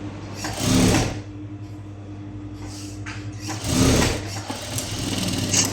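A sewing machine stitches a blouse with a straight stitch over an added pleat, running in two short loud bursts separated by a quieter steady hum.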